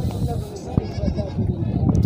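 Goat bleating at a livestock market in Pakistan, where goats with kids are sold; short bleats rise amid a busy crowd with people talking nearby.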